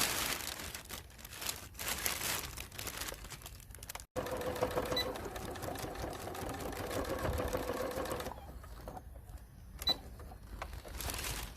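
A sewing machine stitches through a tarpaulin collar for a lightweight cape tent, running in short bursts with a brief stop, then a steadier run and a quieter stretch near the end, faint and close with no talk.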